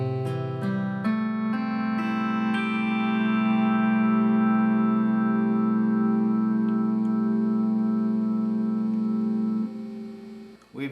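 An eight-string lap steel guitar played through a single-coil wound pickup with a traditional Hawaiian tone. A few plucked notes settle into a long sustained chord that rings and then cuts off near the end.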